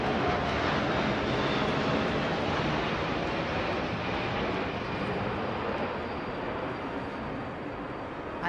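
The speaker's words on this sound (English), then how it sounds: "we're seeing the C-17 Globemaster, our long-range strategic heavy lift transport, and behind it the BAE 146" C-17 Globemaster and BAE 146 aircraft flying past at an RAF centennial flypast, a broad distant roar of jet engines, steady and washing like surf, slowly fading slightly with no voices.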